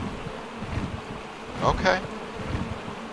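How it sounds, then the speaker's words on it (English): Bees buzz briefly in a video game, in the middle of a steady background drone, with a short spoken word. "there's bees right here."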